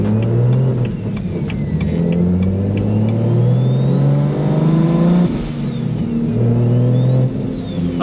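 BMW with an N54 engine fitted with a big single turbo, running about 20 psi of boost, accelerating hard: a loud, steady engine drone climbing in pitch through the gears, with whistling turbo spool and brief dips at shifts.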